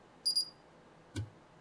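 Quiet electronic double beep from a Vortex 250 Pro drone's motor ESC confirming settings: two short high tones in quick succession, followed a moment later by a soft click, otherwise near silence.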